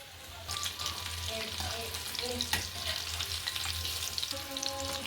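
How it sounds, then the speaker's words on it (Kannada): Chicken kebab pieces deep-frying in oil over a low flame, a steady bubbling sizzle that starts abruptly and continues throughout, with a low hum underneath. "ಅದಕ್ಕೆ ಲೋ ಫ್ಲೇಮ್ನಾಗ ಇಟ್ಕೊಂಡು ಹೊಳಸ್ತಾ ಕರಿಬೇಕ್ರಿ."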